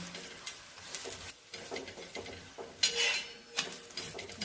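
A spatula presses a potato and besan flatbread against a hot pan, giving irregular soft scrapes and metallic taps with faint sizzling between, close and fairly quiet, no talk.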